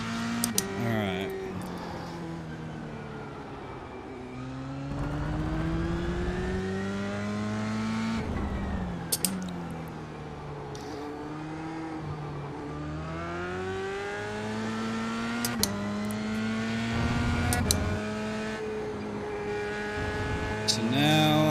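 A Dallara F3 race car in iRacing drives on track throughout, its engine note rising and falling through repeated gear changes and revs, with a few sharp transient clicks and a voice talking at times over the engine.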